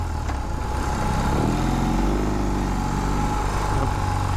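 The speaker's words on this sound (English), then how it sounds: "The exhaust note sounds brilliant." A BMW R18 First Edition motorcycle with its 1800 cc engine idles with a steady, loud exhaust rumble and no one talking over it.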